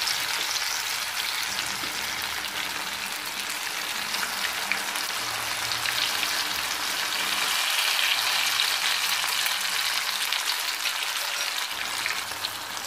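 Chilli chicken fries in a pan over medium flame, giving a loud, continuous crackling sizzle like heavy rain that holds steady from start to finish with no voices.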